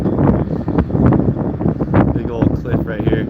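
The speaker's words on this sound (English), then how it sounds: "That's why it's so loud. The wind's going that fast." Strong wind roars across a fishing boat gillnetting for coho salmon off Alaska, a steady, loud buffeting rush over the microphone that never lets up.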